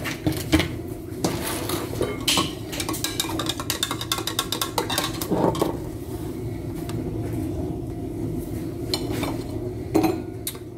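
Dishes and cutlery clink and clatter as a deep plate is handled while making mini coffee-soaked sponge desserts, with repeated sharp chinks and scrapes at close range over a steady background.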